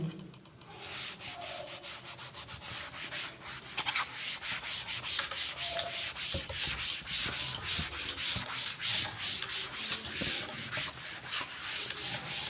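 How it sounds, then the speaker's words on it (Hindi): Notes are rubbed off a classroom board with an eraser in quick repeated back-and-forth scrubbing strokes, a dense rhythmic rasping that runs steadily for several seconds, close and moderately loud. "इसको रब कर देते हैं"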